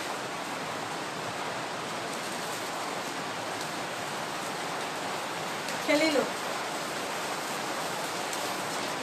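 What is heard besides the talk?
rain falling outside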